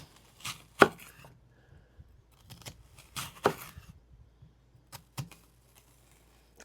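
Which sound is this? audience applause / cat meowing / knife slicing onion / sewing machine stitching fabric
knife slicing onion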